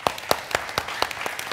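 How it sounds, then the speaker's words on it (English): A handful of crisp, evenly spaced claps from a small audience thanking the panelists at a tech conference, close and steady in rhythm for a brief moment. "let's give a round of applause to the panelists."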